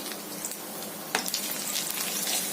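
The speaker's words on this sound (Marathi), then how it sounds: "कढीपत्ता चांगला गरम झाला की मग आपण लसूण घालूया थोडी।" Garlic sizzles in hot oil with curry leaves, a dense, steady crackling hiss close up that jumps louder about halfway through as more goes into the pan, with no voices.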